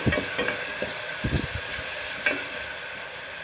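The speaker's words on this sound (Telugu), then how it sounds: "ఒక స్పూన్ జింజర్ గార్లిక్ పేస్ట్ వేసుకుందాం ఇది పచ్చివాసన పోయేంత వరకు వేపుకోవాలి" A spoonful of ginger garlic paste fries in oil in a pan for a mixed vegetable curry. A continuous close sizzle is broken by several short spoon-stirring scrapes, with no talking.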